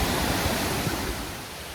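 Steady broadband roar of a waterfall in Samaná, Dominican Republic, close and constant with no breaks, and no talking.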